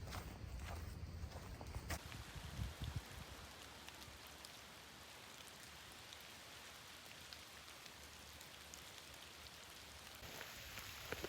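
Rain falls steadily at McAfee Knob on the Appalachian Trail, a soft, even hiss of drops close by, with faint rustling or footsteps near the start and end.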